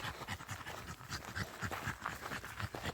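A dog pants heavily in quick, rhythmic huffs, close and soft, a steady run of breaths with no other sound.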